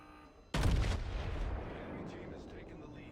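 A loud, sudden boom of battleship guns firing in the World of Warships naval game, one sharp blast with a heavy low rumble that trails off into a sustained roar.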